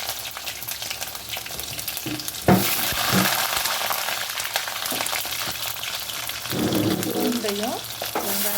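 Curry leaves frying in hot oil for a garlic kuzhambu, a steady crackling sizzle with a sudden loud spit when added and occasional stirring scrapes, close by.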